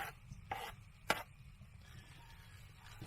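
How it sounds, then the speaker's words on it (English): Chopped onion is scraped off a board into a pot in a large shelter, with a few brief, quiet scrapes and knocks spaced apart against a low background hum. "I'm going to scrape the onion in there"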